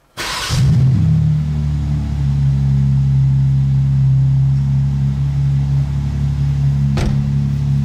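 A cold BMW M4 engine cranks and fires with a sharp burst, then settles into a loud, steady low idle that holds for several seconds, broken by one brief click.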